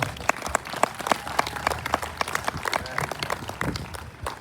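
An audience at the St Croix Idol 2025 show claps for the event sponsors, a moderate scatter of individual claps with a few sharp, prominent hand strikes near the front, lasting a few seconds.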